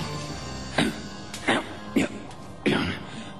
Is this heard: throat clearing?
yes